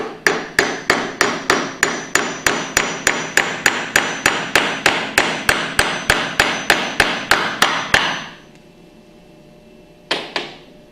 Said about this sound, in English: line that up into the cam bearing and tap it in with a hammer gently until you feel it bottom out